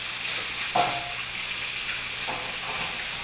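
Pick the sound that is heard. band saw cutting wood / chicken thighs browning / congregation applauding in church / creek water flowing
chicken thighs browning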